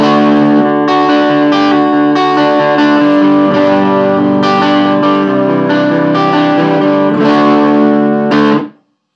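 A loud, clean electric guitar plays ringing chords through an AXL T-15 valve hybrid combo amp with master volume high, notes sustaining with a reverb tail before cutting off sharply at the end.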